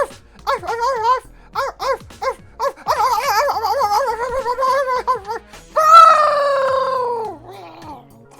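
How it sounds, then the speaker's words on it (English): A dog in the Cool Kid Cody video game barks in short repeated yips, then lets out a longer whining howl that trails off. The barking is close and loud. "Barking ensues."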